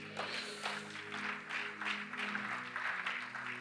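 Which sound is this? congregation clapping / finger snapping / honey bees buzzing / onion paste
congregation clapping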